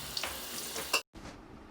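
Garlic and onion sauté in a pan with a soft, close sizzle and a few stirring scrapes. The sound drops out briefly to silence, then a fainter sizzle resumes.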